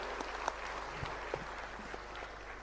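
Distant, faint applause from an audience at an African Human Capital Heads of State Summit in Dar es Salaam as heads of state return to their seats, a soft steady patter of clapping.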